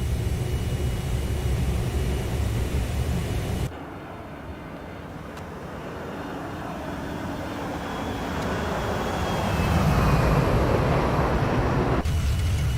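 A Boeing 737-300 in the X-Plane 11 flight simulator takes off and climbs, giving a steady broadband engine roar that drops briefly then swells louder, continuous with no talk.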